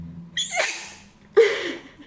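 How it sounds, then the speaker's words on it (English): A person sneezes twice in quick succession, the first with an inhaled gasp, the second a sharp burst, close and fairly loud. "Oh, but I'm gonna sneeze."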